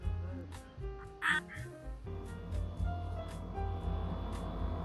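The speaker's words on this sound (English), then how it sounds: "when did this goose get in here?" A goose in the VRChat game lets out a brief nasal quack-like honk, a short burst standing out over a steady background hum and muffled ambient noise.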